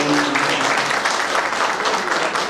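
A crowd's hand clapping at a gathering rolls on as dense, continuous applause, loud and close throughout, with a faint tone briefly at the start.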